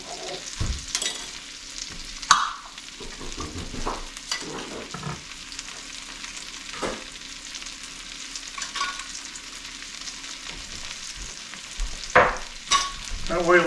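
Butter and oil in a frying pan, for pan-frying walleye, give off a soft, continuous sizzle, with occasional clinks and scrapes of stirring on top, fairly quiet and close.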